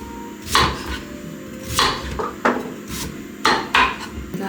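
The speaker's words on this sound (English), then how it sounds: "Just gonna cut these random wedge shapes." A knife chops daikon into wedges on a wooden board, making about six distinct knocks at an irregular pace, close and fairly loud, with no voices.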